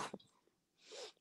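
A short, quiet sneeze: a sharp burst followed by a breathy exhale, close but faint.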